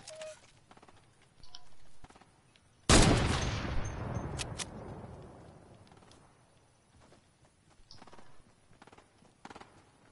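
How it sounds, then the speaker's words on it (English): Gunfire in the Fortnite video game: one sudden loud blast rings out and trails off in a long, echoing decay, with quieter clicks and taps before and after. "Somebody shooting?"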